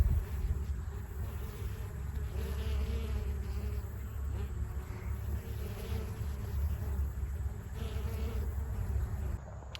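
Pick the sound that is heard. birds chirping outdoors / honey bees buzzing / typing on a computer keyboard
honey bees buzzing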